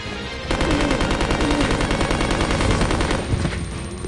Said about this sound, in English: shooting the Mac 10s is so fun